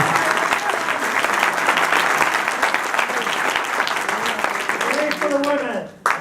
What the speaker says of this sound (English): Because you deserve applause too for stepping into the arena.